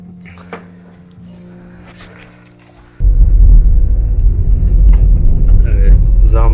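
A car sets off on a village outing, its engine rumble and road noise rising suddenly and staying loud after a quieter stretch with faint clicks and movement inside the vehicle.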